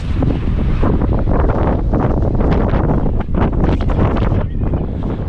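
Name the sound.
strong wind by the sea in Tangier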